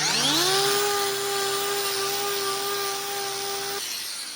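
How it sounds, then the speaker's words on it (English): An electric grinder trims a bull's hoof: the motor spins up quickly into a steady, high, loud whine that holds for a few seconds, then cuts off and winds down. "So that's about as much as I can take off there with the grinder"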